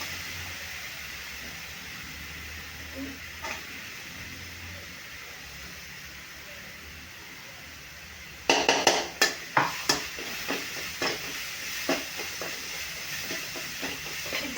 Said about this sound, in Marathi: आपल्याला थोडंसं लसूण वगैरे चांगलं परतून घ्यायचं आहे